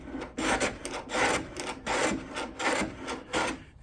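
An old wooden moulding plane cuts a cross-grain moulding in rhythmic strokes, about seven rasping pushes in steady succession, close and fairly loud with no talking.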